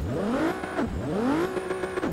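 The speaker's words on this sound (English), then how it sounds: "Let's make some revs." Scion tC drift build in Forza 6 revving repeatedly in the game, the engine note sweeping up and down twice in quick succession, close and steady with no talking.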